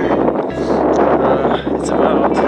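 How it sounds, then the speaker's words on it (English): Steady mountain wind on the Everest Base Camp trek buffets the microphone in a continuous low rumble, with gusty rushing noise throughout and no clear pauses. "It's a bit windy up here."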